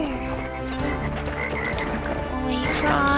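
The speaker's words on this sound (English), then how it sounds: "Well, I love the frogs." Frogs croak in Crash Bandicoot 3, a dense, loud chorus of throaty croaks layered over game music, continuous and close for the whole stretch.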